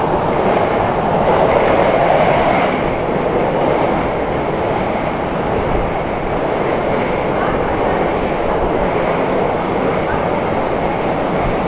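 Steady rumble of a subway train riding toward the airport in Athens, a continuous loud rolling roar with rail clatter throughout, no clear speech.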